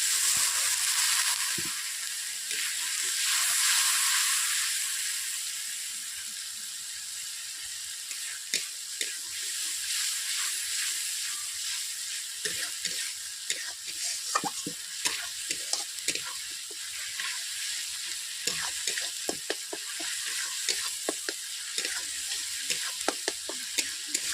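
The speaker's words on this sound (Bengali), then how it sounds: "অল্প করে জল দিয়ে দিচ্ছি।" Water hits hot oil in a pan of Bengali aloo posto, potato and poppy seed masala, bursting into a loud hiss that settles into steady sizzling with scattered crackles, with no voices.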